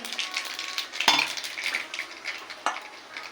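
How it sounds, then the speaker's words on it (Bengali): Raw black cumin seeds crackle and sizzle in hot oil in a wok, a close, steady frying hiss with a sharp clink of a utensil partway through. "আর আমি কড়াইতে তেল দিয়ে দিয়েছি দিয়ে দেবো কাঁচা এই কালো জিরে ফোড়ন"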